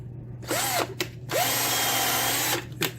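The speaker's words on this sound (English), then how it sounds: "you put your drill on high speed and just let it eat" A power drill on high speed whirs up in two bursts while tapping threads into a lock's chambers, pitch rising as it spins up, with brief stops between runs; close and loud, no talking.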